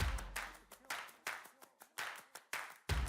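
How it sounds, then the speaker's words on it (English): Faint, rhythmic hand claps at a financial workshop land on a steady beat about twice a second, each a sharp burst with a short decay, repeating evenly throughout. "Clap your hands, do the dance"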